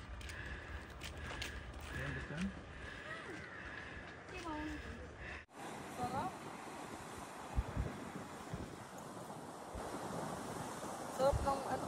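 Steady wind gusts by the sea near a lighthouse, a continuous broadband rush with surf-like swells, buffeting the microphone throughout. The wind sound shifts abruptly partway through, and voices can be heard under the noise.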